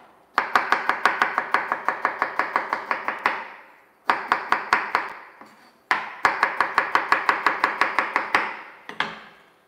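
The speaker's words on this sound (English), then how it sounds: "So, I'm gonna cut it julienne." A knife chops food into julienne strips on a cutting board for beef and broccoli, with rapid, evenly spaced close strikes in three bursts separated by short pauses.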